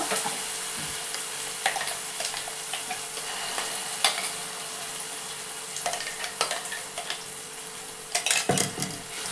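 A spoon stirs tomato and green chilli chutney in a metal pan off the heat, with irregular scraping clinks and taps against the pan over a faint sizzle, louder knocks near the end.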